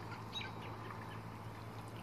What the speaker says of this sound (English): Morning ducks. They are so happy and so fun to watch.